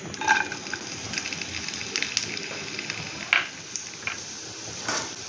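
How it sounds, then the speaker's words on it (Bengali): Chopped onion and garlic frying in a little hot oil in a frying pan, a soft, steady sizzle with a few faint clinks and scrapes scattered through it. "এখন এই পেঁয়াজ রসুনটাকে ভেজে নিতে হবে।"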